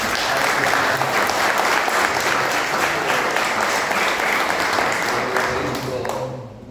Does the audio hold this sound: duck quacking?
no